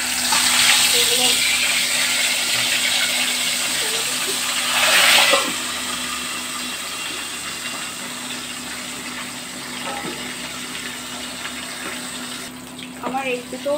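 Pieces of stinging catfish (singhi) fry in a pan with a loud, continuous close sizzle and hiss, fading a little later, with faint clinks of utensils near the end.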